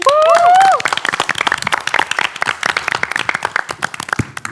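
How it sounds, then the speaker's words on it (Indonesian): A brief whoop of voices gives way to a burst of close, lively clapping and applause from a small group, continuing steadily before tapering off. "Tepuk tangan lu dong."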